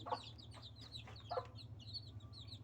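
A brood of hen chicks peeps in high, rapid chirps while a hen clucks softly nearby, close and fairly quiet with no talk.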